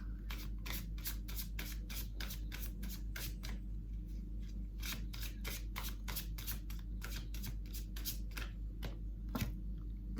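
Tarot cards are shuffled by hand in a steady run of crisp riffling bursts, many quick flicks in close succession over a low constant hum, with no talking.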